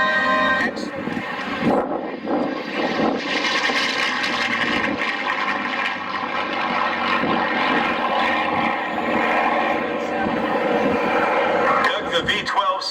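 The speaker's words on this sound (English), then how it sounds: "The V-12 sounds incredible." The V-12 engine of a red-tailed propeller warplane roars past at an air show, a loud, sustained, rich drone that swells and holds for several seconds, with a voice talking over it.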